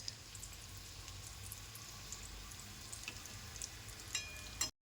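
Sweet potato gulab jamun deep-frying in hot oil give a steady, close sizzle, with a few light scrapes as they are gently stirred and a brief clink near the end.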